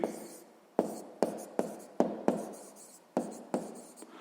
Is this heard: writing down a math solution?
yes